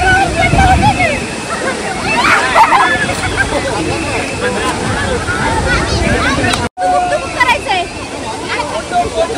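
Devkund waterfall pours in a loud, continuous roar close by, with people chattering and calling over it and a brief dropout near the end.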